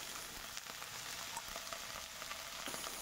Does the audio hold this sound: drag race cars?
no